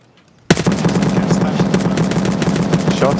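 A sudden, loud burst of rapid automatic gunfire in the video game Escape from Tarkov breaks a near silence and keeps hammering close by in a fast, steady rhythm to the end.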